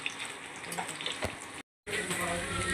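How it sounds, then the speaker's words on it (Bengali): Pieces of taro crackle and sizzle in hot oil in a pan, a steady close frying hiss with small pops, briefly cut out by a short silence before resuming. "এরকম এইভাবে আমি লাল লাল করে ভেজে নেব"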